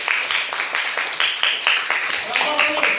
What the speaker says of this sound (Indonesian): Tepuk tangan untuk kelompok biru.